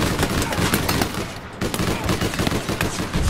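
Rapid automatic gunfire in the video game APB Reloaded, a dense, loud, continuous rattle of shots with a brief dip midway, while a player gives a short exclamation over it.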